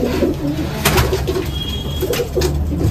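Small pigeons, some with black or blue patches around the eyes, coo in soft, repeated low throaty calls close by, with a brief flutter of wings midway.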